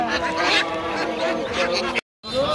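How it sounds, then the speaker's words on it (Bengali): Many ducklings chirp and peep in a dense, continuous chorus at a weekly village duck and chicken market, with people talking faintly underneath and a short gap of silence near the end. "দর্শক এদিকে প্রচুর হাঁসের বাচ্চা, লালন পালনের জন্য হাঁসের বাচ্চা বিক্রি করা হয়"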